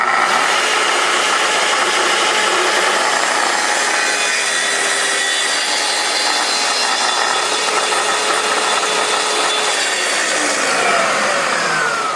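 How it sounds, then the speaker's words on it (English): A plunge saw makes a test cut into a scrap of wood, its motor whining loudly and steadily at close range while the blade bites through the board without pause for the full stretch. "I'll do a little test plunge into a scrap of wood."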